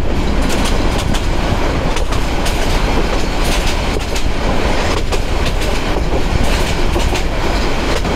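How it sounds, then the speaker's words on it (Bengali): Heard from on board, the Mohua commuter train runs at speed through a national park, a loud, constant roar with rapid clickety-clack of wheels on the rails and no talk. "ট্রেন ভালোই স্পিড দিচ্ছে হল জাতীয় উদ্যানের মধ্যে দিয়ে"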